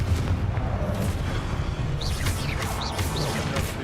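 Confringo fire blast spell cast in Hogwarts Legacy, a dense rumbling burst of fiery noise with crackling and whooshing over game ambience, fairly loud and sustained.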